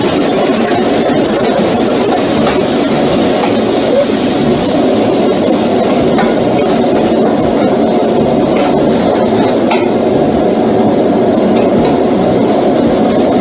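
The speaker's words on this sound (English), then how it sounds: "And I'm hoping that you guys are still able to hear me over that fan." A kitchen fan running on a high setting while a vegan braise slow-cooks, giving a loud, steady broadband roar that fills the whole stretch without letup.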